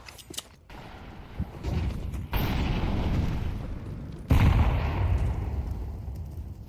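Rapid AK rifle fire in Counter-Strike on the Mirage map, loud bursts and booming shots stacking up with a sharp heavy blast near the end, no talk.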